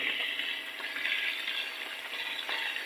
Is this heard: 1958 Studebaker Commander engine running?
no